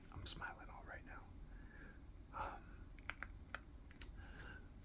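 Close, crisp keyboard typing: irregular bursts of clicks and clacks with a few sharper key strikes, set under soft whispering.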